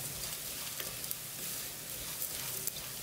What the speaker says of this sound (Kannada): ಇದನ್ನೆಲ್ಲ ನೀವು ಅರ್ಧ ಆದಮೇಲೆ, ಅಂದರೆ ರೋಸ್ಟ್ ಎಲ್ಲ ಅರ್ಧದಷ್ಟು ಆದಮೇಲೆ ಮಧ್ಯ ಸೇರಿಸ್ಕೊಂಡು ಹುರಿಬೇಕು